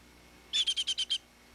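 A pet baby bird gives six quick, evenly spaced high chirps in a short burst against a quiet room, each note bright and clear.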